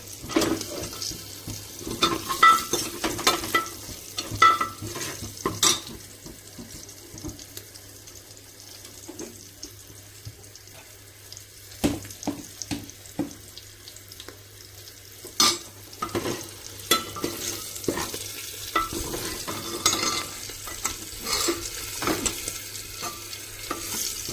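Garlic fries in hot oil with a pinch of turmeric and salt, a soft continuous sizzle broken by irregular scrapes and knocks of a stirring spoon against the pan, close by, with no talk.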